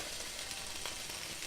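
Cubed cooked chicken breast sears in a hot pan for extra char, giving a steady soft sizzle with a faint crackle, close by and alone, ending in a sharp clink.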